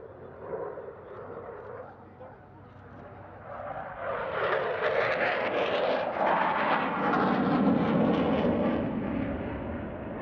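Su-27 fighter jet in a solo airshow display, a loud broad engine roar swelling after a few seconds and holding steady as the aircraft passes, with a faint voice under the noise early on.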